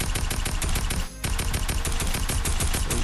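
A tactical assault rifle in the Fortnite video game fires in rapid, even automatic bursts, loud and close, with one brief pause partway through, and no talk.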